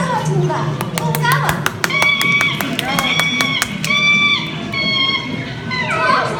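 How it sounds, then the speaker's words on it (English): Riders on the Great Movie Ride applaud in a round of quick, crisp clapping, with children's voices and chatter running underneath. "How about a nice round of applause for Jig, Skippy, Harry, Zippy, Dinky, and all the rest."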